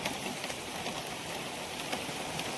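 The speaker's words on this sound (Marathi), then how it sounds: "तर आता पडता मे महिन्याचं पहिलं पाऊस." Steady first rain of May falling in an outdoor setting, a dense, even hiss of drops on surfaces throughout with no breaks and no voices.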